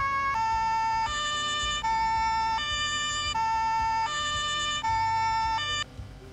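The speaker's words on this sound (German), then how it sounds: "Einmal um das Feeling noch zu kriegen, dass wir eine Sirene haben," A police car siren in the driving game Autobahnpolizei Simulator 3 wails in a steady two-tone pattern, switching pitch about every second, loud and close over a low engine rumble, with no talking.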